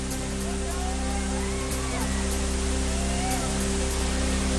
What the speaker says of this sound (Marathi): कोल्हापूरचा प्रसिद्ध राऊतवाडी धबधबा देखील प्रवाहित